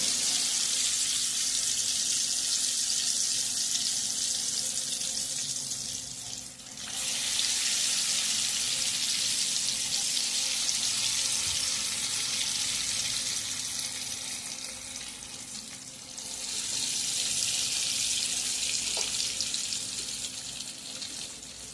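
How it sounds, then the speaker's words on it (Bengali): Dhoka cakes made from khesari and chana lentils fry in oil over a medium flame, giving a continuous bright sizzle that dips briefly twice and then resumes at full strength. "তবে এটাকে কিন্তু একদম মিডিয়াম ফ্লেমে রেখে ভাজতে হবে"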